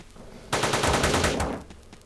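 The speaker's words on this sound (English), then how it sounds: "I used the minigun" A minigun in the video game Teleglitch fires a rapid, continuous burst of about one second, loud and close, then cuts off sharply into quiet.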